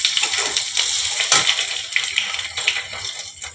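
Black cumin, bay leaves and dried chillies fry in hot oil, giving a bright, continuous crackling sizzle up close with small popping bursts, loud and steady with no talking.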